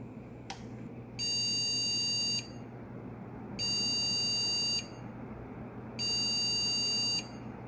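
Three long, steady high-pitched electronic beeps sound at regular intervals over a low background hum, each lasting about a second, from a computer that powers on but shows no monitor signal, a memory fault.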